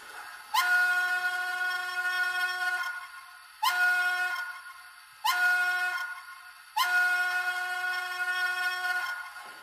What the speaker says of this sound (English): This is a very nice whistle.